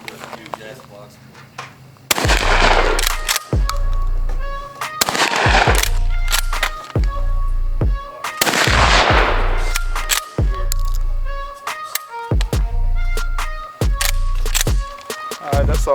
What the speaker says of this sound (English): I just wanted to bring it out and get a few shots off with it